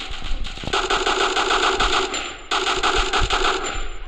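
Rapid automatic gunfire from a weapon in a video game, loud and continuous bursts with a short break near the middle, no talking over it.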